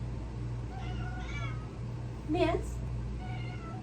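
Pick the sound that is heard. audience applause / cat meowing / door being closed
cat meowing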